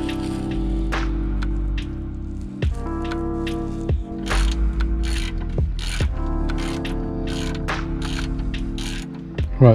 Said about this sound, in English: the lift is now extended to its full capacity